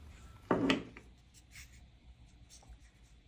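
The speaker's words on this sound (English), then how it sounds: "You can hear it wobble a little bit when I shake it." A brief rattling clatter of a loose camera battery grip wobbling as it is shaken, close and short, followed by faint handling noise.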